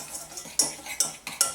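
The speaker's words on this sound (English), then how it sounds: "And 3 tablespoons of cocoa. And we're going to stir it around." A spoon stirring a cocoa mixture around a bowl, with several sharp scraping clinks in quick, uneven succession, close and fairly loud, no talking.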